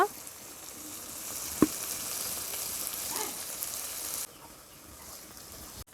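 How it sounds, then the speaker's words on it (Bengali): Small puti fish fry in a swirled kadai, giving a steady, close hissing sizzle with an occasional pop that drops sharply quieter near the end. "কড়াটাকে এইভাবে ঘুরি ঘুরি মাছগুলোকে ভেজে নেব"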